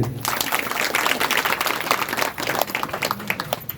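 An audience at a Dnyaneshwari recitation and discourse session in Akot breaks into steady applause, a close patter of many hands clapping that runs continuously with slight rises and falls.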